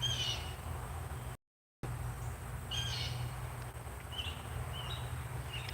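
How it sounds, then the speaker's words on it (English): Birds sing outdoors among sunlit trees on an August day, with a few bright chirping phrases spread across a soft, steady background hiss and no talking. "We got lots of bird song out here."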